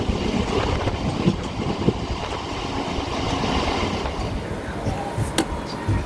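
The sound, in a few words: local train at Khana Junction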